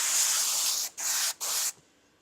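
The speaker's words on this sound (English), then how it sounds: "I'll just give myself a little bit of a test spray." Three short bursts from an airbrush test spray, each a bright, close hiss of under a second separated by brief gaps, the last stopping abruptly into quiet room tone.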